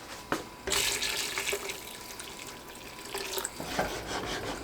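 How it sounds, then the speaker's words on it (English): Water pours from a cup into a pot of beef stew, a steady splashing stream with a few clunks, mid-level and close, with no talking. "I'm going to throw 3 cups of water in there."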